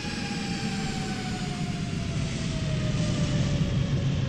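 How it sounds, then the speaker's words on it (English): Airliner landing in Microsoft Flight Simulator 2020 at Sydney, Australia: a steady, loud jet engine roar with a whining tone that drifts slowly downward, continuous throughout with no talk over it. "And actually that was a plane landing,"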